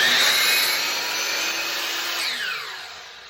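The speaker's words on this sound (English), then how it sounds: "Still getting used to this new saw." A new power saw cutting a frame, a loud steady motor whine with the blade biting through the piece, close up, then the tone sweeps and winds down as the cut finishes.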